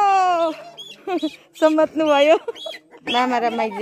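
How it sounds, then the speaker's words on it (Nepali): Chickens cluck and squawk in repeated bursts close by in a village yard, loud and busy. A person speaks briefly over the birds. "काका र दाजु यहाँ चाहिँ कुखुरा बोल्दै हुनुहुन्छ।"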